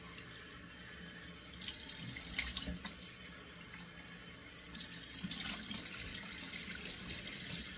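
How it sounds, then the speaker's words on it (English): Cold water runs steadily from a tap into a bathroom sink, a continuous close hiss and splash with slight changes in flow and no talk. "So now I've got cold water running in the tap."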